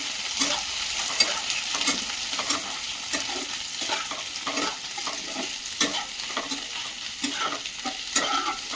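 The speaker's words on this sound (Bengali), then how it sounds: "চলো পেঁয়াজ আর ক্যাপসিকামটাকে হালকা করে ফ্রাই করে নিই।" Onion and capsicum fry in a pan while being stirred, a continuous sizzle broken by frequent scraping, clinking strokes of a spoon, close and steady with no voices.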